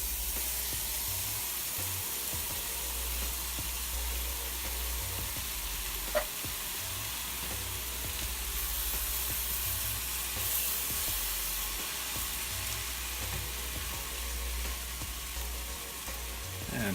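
Tomatoes hit a hot pan for a vegan cheesy enchilada hamburger helper and sizzle in a steady, close frying hiss that carries on without talk.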